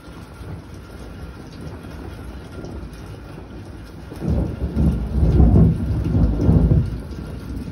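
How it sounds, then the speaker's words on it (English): Thunder from a big lightning storm rolls in, a deep low rumble that swells midway and lingers before fading, heard over steady background hiss. "I haven't had this big of a lightning storm here before."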